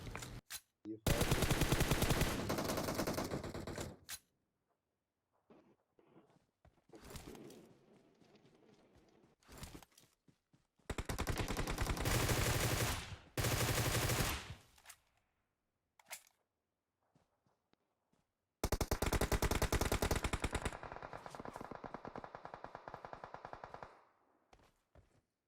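Automatic gunfire in the PUBG Mobile battle royale game, three loud sustained bursts of rapid shots separated by quieter gaps holding scattered single shots and faint movement.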